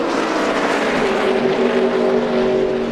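NASCAR Xfinity Series stock cars race down the back straight on the last lap, a loud continuous engine roar with a rising, sustained whine as the pack passes.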